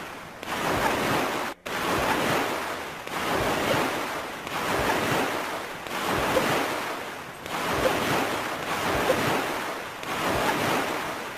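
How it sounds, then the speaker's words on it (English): Stormy ocean surf and wind in The Legend of Zelda: Wind Waker roll in repeated swells about every second and a half, each wave rising and falling in a steady rhythm, with no voices over it. "Look at these waves taking us up."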